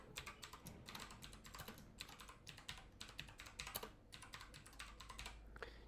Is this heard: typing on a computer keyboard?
yes